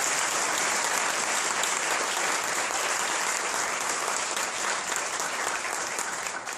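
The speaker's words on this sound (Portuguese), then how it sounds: "Então aplaudamos o Senhor desde já" Sustained applause from a church congregation during a Catholic Cerco de Jericó prayer gathering, dense and steady throughout before easing slightly at the end, with no voices over it.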